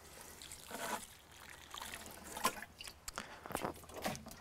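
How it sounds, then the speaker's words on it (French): Water trickling and splashing from a watering can onto freshly planted thyme, parsley, basil, mint and rosemary in pots, a soft irregular dribble with a few brighter splashes, close by with no talk. "Donc j'effectue mon arrosage."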